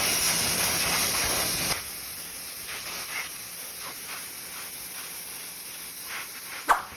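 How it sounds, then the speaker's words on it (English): Bug remover is sprayed onto a motorcycle during a wash: a steady, close hiss of spray for the first couple of seconds, then quieter, brief spritzes and a sharp puff near the end, with no talking. "I just did a little bit more detailed spraying on the bugs"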